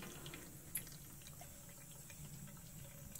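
Water trickling and dripping quietly inside a BRS four-stage RO/DI filter system as it fills, a faint continuous wash with a single sharp drip near the start.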